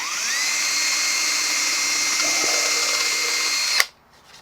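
A power drill with a 1/16 inch bit bores a pilot hole in an electric guitar body, a steady high-pitched whine running for nearly four seconds, then cutting off abruptly into quiet.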